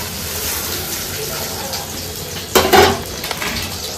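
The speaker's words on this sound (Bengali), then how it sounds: "এবারে একটু জল দিয়ে মশলাটা কষাতে হবে।" Spice paste being stirred and fried with a splash of water in a pan, a steady sizzle with a sharp scraping clatter of the spoon against the pan partway through.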